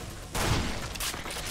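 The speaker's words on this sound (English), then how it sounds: "I must have gotten shot by multiple dudes at one time" Several rapid gunshots strike the player at once in the first-person shooter Serious Sam 3: BFE, a loud burst of overlapping fire that rises abruptly and keeps rattling for over a second, with no talk.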